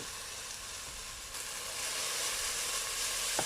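Mushrooms and carrot stir-frying in a pan give off a steady, bright sizzling hiss that swells slightly partway through, with a faint scrape near the end.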